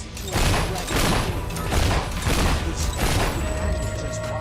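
Rapid gunfire in the Fable 3 video game, dense repeated bursts of shots at a steady, loud level across the whole stretch, with a voice briefly mixed in.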